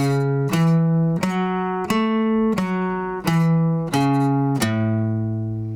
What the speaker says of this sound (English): The main thing we're learning here is a major sixth arpeggio